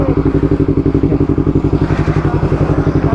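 Yamaha R3 motorcycle on a test ride, its engine pulsing in a fast steady rhythm, loud and close throughout with a rattly, clattering edge.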